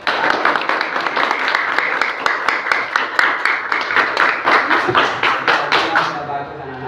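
Schoolchildren in a classroom clapping together in a rhythmic, evenly timed pattern of sharp claps, near and loud, ending abruptly.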